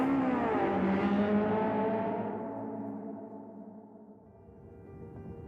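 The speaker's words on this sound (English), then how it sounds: "The sound of wind resistance on a sedan adds a comforting tone to our two travelers" A sedan drives along with a broad rush of wind resistance and engine whir, loud and steady at first, then easing and thinning as the tone drops.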